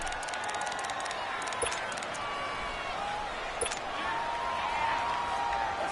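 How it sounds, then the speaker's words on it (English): Steady roar of a home stadium crowd in a PS4 football video game, a continuous wash of cheering and murmur that stays level throughout, with faint commentary voices mixed underneath. "The crowd's not doing that O-line any favors."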